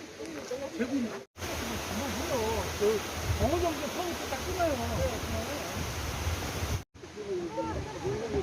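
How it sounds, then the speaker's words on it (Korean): Rushing water and wind at Bongrae Falls on Ulleungdo make a loud, steady roar, with a person talking throughout over the noise and brief breaks in the sound near the start and end. "물소리 또 바람소리 아주 시원한 곳입니다."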